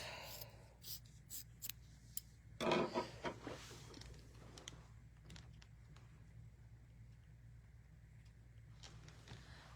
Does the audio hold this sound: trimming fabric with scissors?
yes